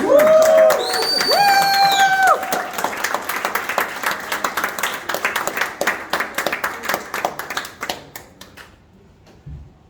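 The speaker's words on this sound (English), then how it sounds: "round of applause" Audience applause at a business seminar in Dubai, a dense wash of clapping that starts loud with a few whoops and cheers over it, then thins out and fades to near silence by the end.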